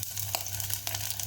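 Garlic fries in olive oil in a pan, a close, even sizzle with a couple of sharp crackling pops and spits over a constant hiss.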